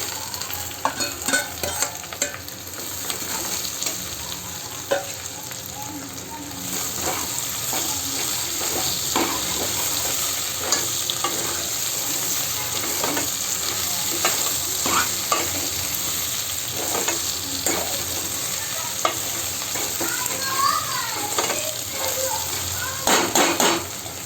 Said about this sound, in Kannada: ಫ್ರೈ ಮಾಡ್ಕೊಂಡು ಇಟ್ಕೊಂಡಿದ್ವಲ್ಲ ಬೆಂಡೆಕಾಯಿನ ಹಾಕ್ತಾ ಇದ್ದೀನಿ